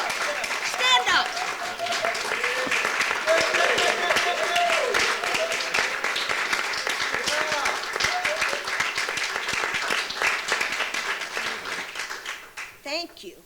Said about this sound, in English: Stand up, stand up, stand up, stand up and give this applause.